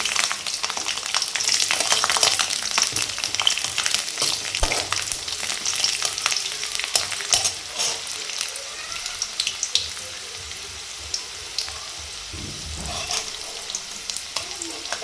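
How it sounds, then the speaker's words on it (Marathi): Garlic and ginger frying in a pan for matar paneer, a steady crackling sizzle running throughout, with occasional stirring scrapes and faint watery sounds, close and fairly loud with no talk. "लसूण आणि अद्रक व्यवस्थित फ्राय झाल्यानंतर"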